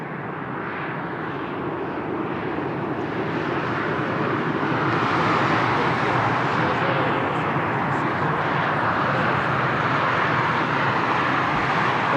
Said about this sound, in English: Next aircraft it's a Ryanair 737-800.